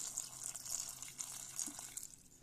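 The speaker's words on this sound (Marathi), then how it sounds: "ह्यात आता थोडेसे पाणी वतूया." Water is being poured faintly and steadily into a bowl of washed bitter gourd, a soft continuous trickle against a quiet background.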